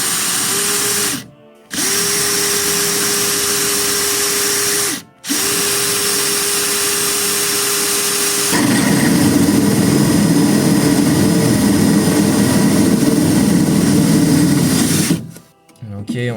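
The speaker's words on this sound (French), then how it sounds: "Donc ça, c'est la scie cloche métal et placo, on va dire. Donc on met la bois absolument dessus, on met en vitesse 1" A drill running a hole saw for metal and plasterboard at speed 1: a steady motor whine in several bursts separated by brief stops, then a rougher, louder grinding as the saw bites into the material.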